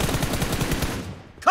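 Rapid automatic gunfire rattles in BGMI, a steady stream of close, loud shots for about a second before cutting off, followed by a brief voice.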